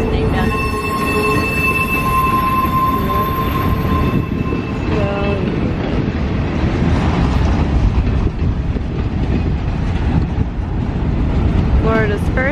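A train on Florida's first Atlantic-to-Gulf railroad on Amelia Island rolls past loud and close, with a steady rumble of railcars and clatter of wheels throughout. A bright horn-like tone rings out early on, and faint voices sit beneath the noise.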